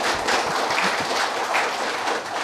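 Audience applause at the opening ceremony of the PBC Indonesia International Open, a dense, steady burst of clapping from a crowd, loud and close, with no speech over it.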